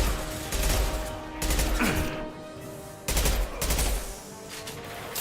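Machine pistol fire in Mass Effect comes in short rapid bursts, three loud clustered volleys separated by brief pauses, with a whooshing projectile sweep between them and ongoing combat noise.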